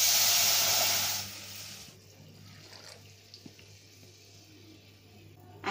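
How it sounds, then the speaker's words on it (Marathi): Milk poured into roasted semolina and vermicelli in a hot pan, a loud hissing sizzle for about a second that quickly fades into quiet bubbling. "आता याच्यामध्ये आपण दूध घालणार आहे."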